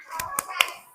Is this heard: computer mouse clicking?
no